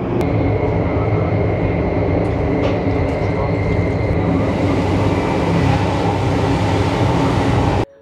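Steady loud rumble and rushing hum inside a Japanese bullet train cabin while riding, continuous throughout with faint high whine, then cutting off abruptly at the end.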